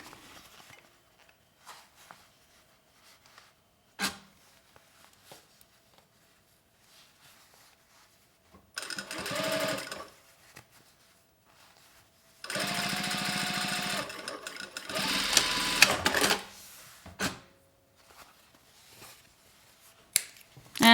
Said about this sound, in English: And then you align and just sew.